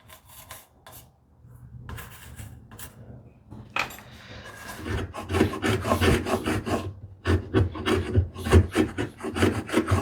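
A hand tool shaves wood from a tenon in a run of rasping, rubbing strokes that start sparse and faint, then build into a steady, close rhythm of scraping passes.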